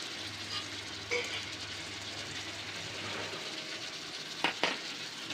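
Tomatoes and a cup of yogurt sautéing together in a pan for Muslim-style beef biryani, a steady faint sizzle with a few brief stirring clinks near the end, no talking.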